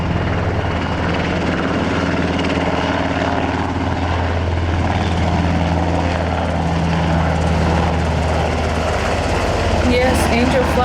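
An army-grade helicopter roars loud and close, with a steady thudding rotor and engine drone running throughout, and voices are mixed in beneath the noise.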